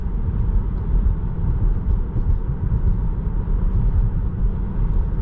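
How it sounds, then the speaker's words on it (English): Inside a 2021 Tesla Model 3 cabin at 45 mph, a steady low road-and-wind rumble fills the space, a constant broadband hum with no talking. "let me just be quiet for a second so you can hear what the outside sounds like while you're driving"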